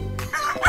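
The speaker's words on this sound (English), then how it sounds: "Cock-a-doodle-doo, crowed the rooster." A rooster crows in one short, loud, close burst from a farm animal scene, with no talk over it.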